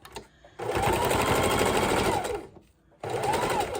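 A sewing machine stitches lace trim onto a junk journal cover, running in a steady whirring burst, pausing briefly, then starting up again, close and clear.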